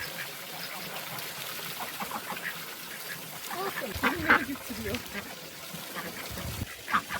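Ducks quack repeatedly in a busy, scattered chorus, close by, with people talking and outdoor noise in the background.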